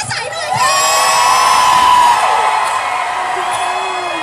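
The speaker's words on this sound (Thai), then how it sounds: "ขอเสียงปรบมือให้กับฟ้าใสหน่อยค่ะ" Fans welcoming Miss Universe Thailand Fa Sai home to Thailand raise a loud, close crowd roar of high-pitched cheers, shrieks and whoops that swells and holds for several seconds.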